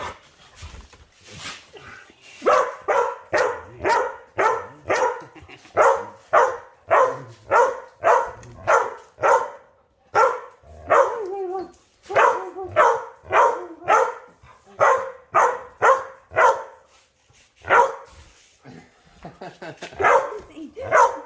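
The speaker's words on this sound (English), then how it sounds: "the dogs are so feral" Dogs playing tug with a stick bark in repeated loud bursts, close by, with short pauses between volleys and brief whimpers, going on for about twenty seconds.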